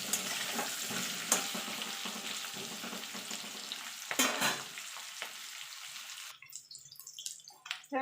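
Small potatoes frying in hot oil for aloo dum, a steady close sizzle with occasional stirring clatters, fading quieter toward the end.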